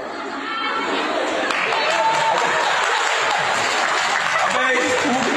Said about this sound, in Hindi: वहां मौजूद लोग हबीब की इस करतूत पर हंस रहे हैं, तालियां बजा रहे हैं।